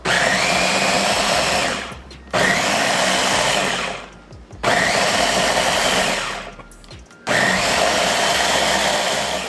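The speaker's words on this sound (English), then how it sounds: "We are going to blend this up I have a Ninja, and here we go." A Ninja blender chopping salsa ingredients, running in loud steady whirring bursts of about two seconds each, stopping briefly between pulses, close and dominant with no voices.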